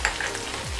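Onion, garlic, green chili and curry leaves sautéing in oil for pumpkin sambar, a brief close burst of steady sizzling with stirring.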